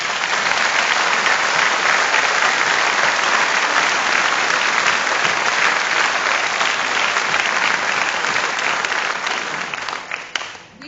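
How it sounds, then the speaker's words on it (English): A large crowd at an alumni association annual meeting gives a long, loud round of applause, full and even for about ten seconds before tapering off and fading at the close. "Please join me in a warm round of applause for our fabulous Carl Bella."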